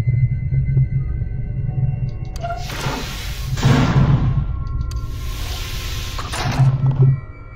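From the SCP: Containment Breach video game, an SCP creature's speaking sound effect plays as a low, droning hum broken by two breathy whooshing bursts, close and fairly loud.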